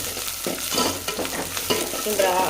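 Onions frying in a pan give a constant close sizzle, with repeated stirring scrapes rising and falling over it.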